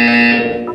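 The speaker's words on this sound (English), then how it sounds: "When you hear the buzzer," A loud electronic buzzer from the video game Portal 2, a sustained steady harmonic tone sounding for most of a second, with a brief chirp near the end.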